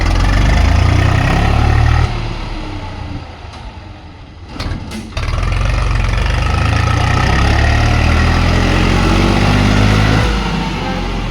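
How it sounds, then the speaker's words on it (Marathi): A tractor engine runs loud and close with a steady low rumble, easing off briefly partway through before returning to full strength. "येऊ दे रे ट्रॅक्टर"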